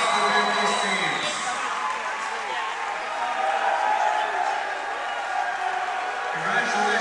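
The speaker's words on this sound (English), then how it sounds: "Ladies and gentlemen, how about a round of applause for both these teams?" Sustained applause and cheering fill a gym for both boys volleyball teams at a section final trophy ceremony, a dense steady roar of clapping and whoops with faint voices underneath.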